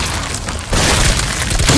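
Frag grenade detonation in Call of Duty Cold War Zombies, a loud, close boom that bursts out partway through and rolls on with a broad, noisy blast tail.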